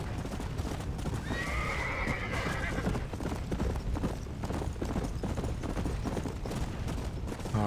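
Horse in Red Dead Redemption Undead Nightmare galloping with steady rapid hoofbeats and a clear whinny early on, loud and continuous, with faint talk in the background.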